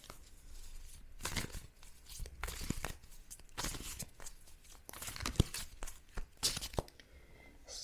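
Tarot cards from a light gray deck are shuffled and pulled, giving repeated papery riffles, snaps and crinkly card slides in uneven bursts, fairly close and moderately loud, with no speech.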